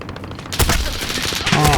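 A loud flurry of gunfire in Modern Warfare erupts after a quieter moment, dense overlapping shots continuing with more bursts near the end.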